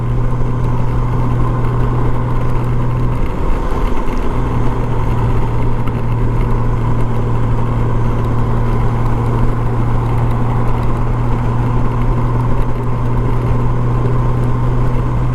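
A motorcycle engine drones steadily while riding in Tampa, with continuous wind and road noise and a sustained tonal hum that briefly wavers as the pitch shifts, loud and close throughout, with no voices.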